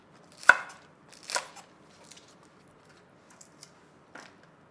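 A knife chops green onions on a board: a handful of sharp, separate chops spaced irregularly, followed by a few lighter taps in a quiet kitchen.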